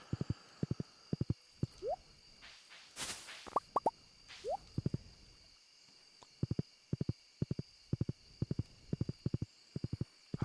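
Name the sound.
horse galloping in Stardew Valley video game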